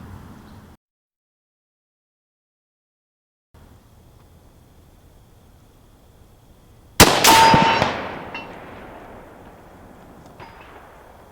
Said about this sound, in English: So let's start off with a 200-yard shot.